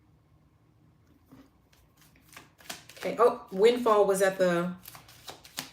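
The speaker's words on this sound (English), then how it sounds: "I had already started shuffling" Tarot cards riffle and snap in quick, crisp bursts during shuffling, close by and running under a woman's speech that grows louder partway through.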